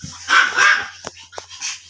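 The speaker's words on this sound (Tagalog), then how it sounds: "Dami yung aso" Dogs bark in a few sharp, close bursts, with a short yip and quieter scattered sounds between them.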